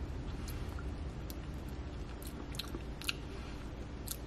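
A spoonful of a soft sweet treat like melted sugar cookie is eaten up close, with quiet wet chewing and occasional small clicks of the spoon, steady and faint, with no talk.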